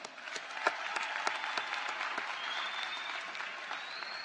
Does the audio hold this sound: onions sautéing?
no